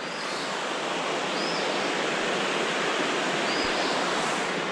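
A river flows far below a long, high bridge, a steady broadband rush of water that holds constant throughout with no voices.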